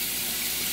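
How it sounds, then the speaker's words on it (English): Tap water runs steadily into a pot set to soak, a continuous close hiss and splash filling the whole short moment with no voices. "I'm gonna soak this pot for"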